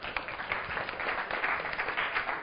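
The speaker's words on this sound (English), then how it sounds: "Everyone give him a round of applause." Audience applause in a real estate seminar room, a steady round of many hands clapping at close range, dense and even throughout, with no speech over it.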